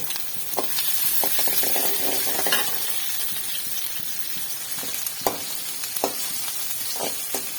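Chopped onions sizzle as they sauté in a pan for a mixed-vegetable kuzhambu, a continuous bright hiss broken by a few sharp stirring clicks and scrapes.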